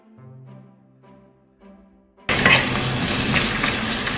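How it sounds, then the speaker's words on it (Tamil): Curry leaves and onion dropped into hot oil for ponnanganni keerai varai, a loud sudden burst of sizzling frying that keeps on steadily after a few soft knocks and clinks of the pan. "இந்த கருவேப்பிலையும் இதில் போடுங்க."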